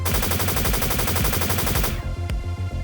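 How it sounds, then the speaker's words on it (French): A heavy cannon in a French sci-fi audio drama fires a loud, rapid unbroken burst of shots for about two seconds, then a few scattered louder reports follow. "porta son lourd canon à sa hanche et se mit à tirer, sans même viser"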